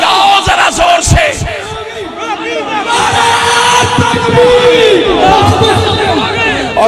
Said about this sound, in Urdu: یہ نعرہ لگاؤ ذرا زور سے